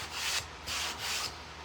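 Sandpaper drawn lightly over wood coated in a finish that has not fully cured. A few soft, close rasping strokes come in a slow back-and-forth rhythm, each a short whispery scrape separated by brief pauses.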